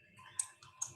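Computer mouse clicks during browser work, two sharp, quiet clicks about half a second apart in a near-silent room, with no talking.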